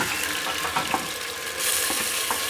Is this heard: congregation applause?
no